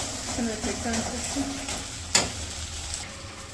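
Spice masala cooking down in a pan on a village kitchen fire, a soft continuous sizzle with occasional stirring scrapes and one sharp clink near the middle, while a person talks over it.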